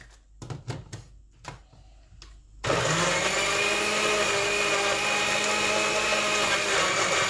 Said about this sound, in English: So that's my grinder. I'm grinding the pepper and the onions.